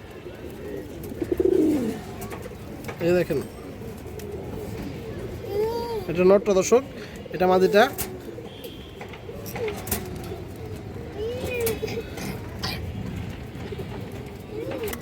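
Big male Indian Kaldom pigeons coo repeatedly in a loft of healthy birds, low rolling calls near and far, with someone talking over them throughout.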